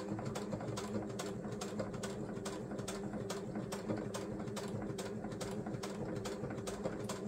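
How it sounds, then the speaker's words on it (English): A sewing machine runs steadily, stitching straight down a fabric seam on a snippet roll craft project, its motor humming evenly with a fast repetitive needle rhythm throughout, moderately quiet and with no talking. "a quick stitch down the seam"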